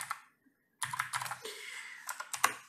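Bursts of clicky keystrokes on a computer keyboard while Python code is typed, with a short pause before a steady run of close, crisp taps in uneven rhythm.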